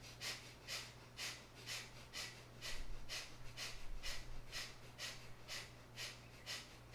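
Rhythmic exhaled breaths during a yoga breathing exercise, about a dozen quick, even puffs roughly two per second, close and fairly soft over a low steady hum.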